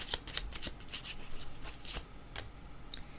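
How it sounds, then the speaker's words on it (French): Tarot cards being shuffled by hand: a quick run of close, crisp riffling and sliding card rasps, loud and alone, with no voices. "Je vais demander une carte directement sur séparation pour voir."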